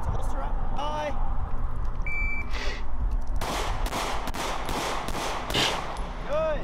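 Rapid handgun shots at a shooting drill for a first-time shooter, a string of sharp broadband cracks in quick succession toward the end, preceded by a couple of isolated reports, with a voice heard between shots.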